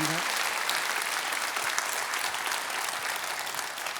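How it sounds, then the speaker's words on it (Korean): A large audience applauds a special lecture by a university president at a public event, steady dense clapping filling the room for several seconds with a faint voice briefly heard at the start. "다시 한번 이광현 총장님께 큰 박수를 부탁드리겠습니다."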